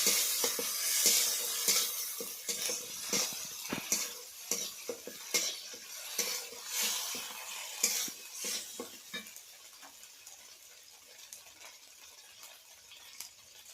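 A paste of chopped tomato, ginger, onion and dried red chilli sautés in a pan, a busy sizzle with many rapid spatula scrapes and clinks that thin out and fade toward the end.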